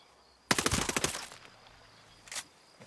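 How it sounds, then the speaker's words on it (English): A short burst of rapid gunfire in Ghost Recon: Breakpoint, a fast volley of sharp cracks, then a single fainter shot a moment later over a quiet background. "They might have heard some of the gunshots that were going on"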